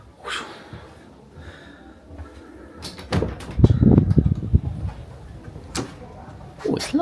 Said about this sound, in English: Oh, that door's heavy.